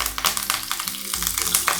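Curry leaves and dried red chillies sizzle in hot oil with mustard seeds for a tempering, a close, loud crackling hiss with sharp pops throughout, briefly dipping before surging again.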